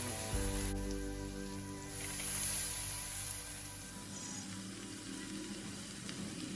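Cooked rice tipped into a pan of fried vegetables for fried rice sets off a crackling sizzle under a faint sustained hum, rising briefly mid-way then settling to a softer, steady fry.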